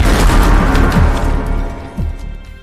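A loud explosion in the horror game Zoochosis rolls out as dense, rumbling broadband noise across the whole moment, with a few sweeping tones and smaller bursts swelling near the start and again about two seconds in.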